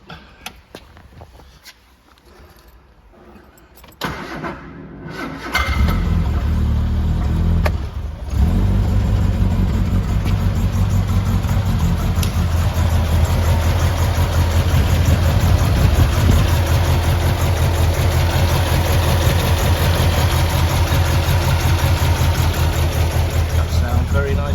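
A 1975 MG Midget with a restored heritage shell cranks over briefly, catches and settles into a steady, close, throaty idle on choke, while someone talks over the running engine.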